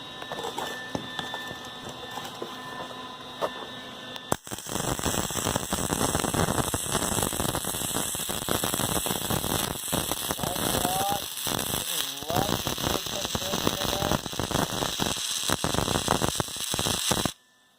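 A loud, steady electric crackle and buzz of arc welding starts abruptly and runs continuously with sizzling pops, then cuts off sharply at the end.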